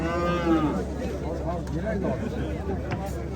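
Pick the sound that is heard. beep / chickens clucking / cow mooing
cow mooing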